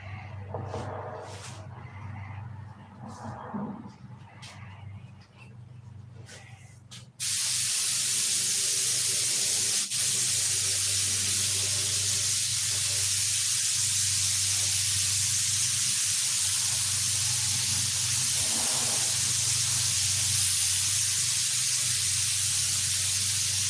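A spray paint can lets out a loud, continuous hiss for a long stretch laying down a coat, starting abruptly after a quieter spell of background rumble and small clatters.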